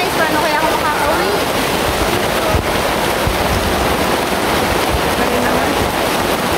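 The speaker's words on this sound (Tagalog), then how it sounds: "Ang lakas ng ulan guys." Heavy rain pours in a dense, roaring wash, loud and close with blustery wind buffeting the microphone, and a voice can be heard speaking over it at times.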